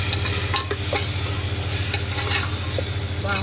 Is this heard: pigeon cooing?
no